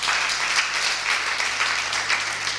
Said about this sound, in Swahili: Jameni, simupigia wazee makofi